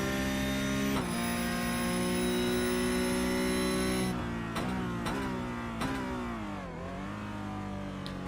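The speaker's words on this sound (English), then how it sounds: "the engine bogged just a little bit once he got down into 3rd gear" Onboard a Porsche Cup race car in a racing video game at Brazil, the engine holds a loud steady high-revving drone, then drops through several quick downshifts with sharp blips and a slight bog as revs fall.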